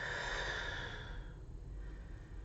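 One slow, soft exhale during a relaxation exercise, a faint airy breath that fades over about a second into quiet room noise.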